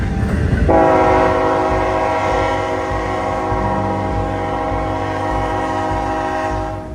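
A CN freight train on the Bala subdivision sounds a long, loud, sustained horn chord as it rumbles past, with steady rail noise underneath.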